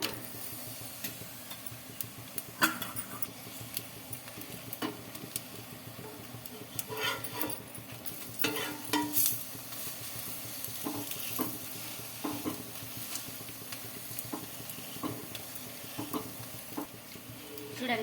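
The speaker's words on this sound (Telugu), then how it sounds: "ఒక సైడ్ అయితే ఆయిల్ అయితే అప్లై చేస్తున్నాను" A rava roti made from semolina cooks in oil on a hot pan, giving a steady, moderately close sizzle with scattered small ticks and pops throughout, no talking.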